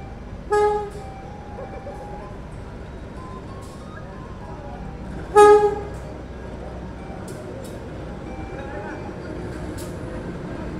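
Two short, loud horn blasts, a few seconds apart, from the Serayu train running from Pasar Senen to Purwokerto as it pulls into Purwakarta station, over a steady bed of station noise.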